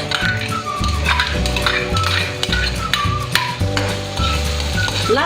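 Lots of garlic sautéing in a pan for beef salpicao with mushroom: a steady sizzle with repeated scraping and stirring strokes of a utensil against the pan, loud and close, with background music playing throughout.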